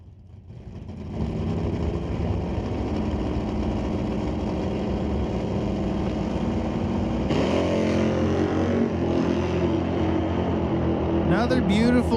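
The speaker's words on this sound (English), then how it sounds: "Bobby Ellers, 1989 Mustang notchback car, Fox body in the right lane with a 1024 dial." A 1989 Ford Mustang notchback Fox body drag car and a rival launch down the strip at an NHRA Northwest National Open race, engines roaring loud and sustained, swelling further midway, with no talk.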